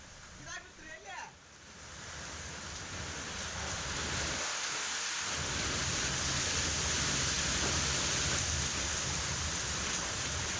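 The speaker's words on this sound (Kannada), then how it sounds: "ಬೆಳಗಾವಿ ಭಾಗದಲ್ಲಿ ವರುಣ ದೇವ ಜೋರಾಗಿ ಅಬ್ಬರಿಸಿದ್ದಾನೆ" Heavy rain pours steadily in Belagavi, a dense broadband roar that builds and stays loud throughout, with no distinct thunderclaps standing out; a brief voice is heard at the very start.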